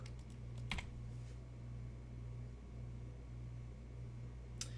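Quiet bursts of typing on a computer keyboard, a few quick clicks at the start and again near the end, over a steady low electrical hum.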